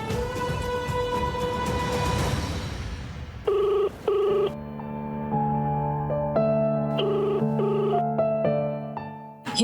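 A telephone rings unanswered indoors, a bright repeating electronic ring tone sounding in regular bursts, near and clear, following a short stretch of noisy rumble at the start.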